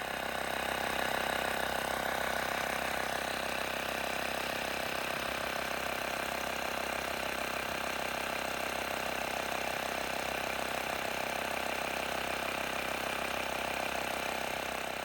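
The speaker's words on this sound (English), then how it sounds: "these small pumps do take quite a while to pump some air into the tyres" A small portable air pump inflates the front tyre of a VW T6 toward 58 psi, its motor buzzing and rattling in a steady, rapid mechanical drone that holds unchanged and fairly close throughout.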